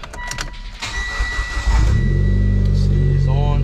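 A Mitsubishi Evo X engine catches and settles into a steady, loud idle hum after a brief start, with someone talking faintly over the opening moments.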